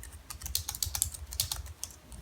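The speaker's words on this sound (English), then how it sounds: "really nice keyboard feedback. Typing is definitely enjoy" Typing on an OITTM bamboo Bluetooth keyboard, a quick, uneven run of light, close-up key clicks and soft taps with no voices.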